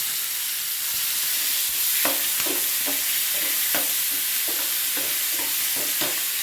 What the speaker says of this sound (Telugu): ఫ్రై చేయండి అలాగే కరివేపాకు వేయించండి